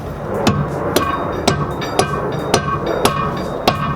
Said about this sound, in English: you can use a mallet to hammer it back in.